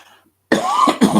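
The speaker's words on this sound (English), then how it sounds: "I am coughing." A single harsh cough from a ticklish throat bursts out close and loud after a brief near-silence, breaking into two rough pulses.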